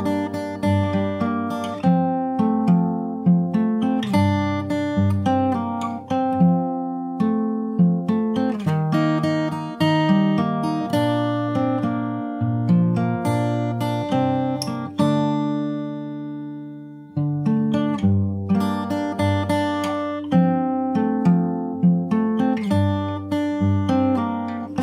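Fingerstyle guitar with a capo plays the verse of a song, with a melodic run of plucked notes over bass notes, a brief pause midway, close and clear with no voice.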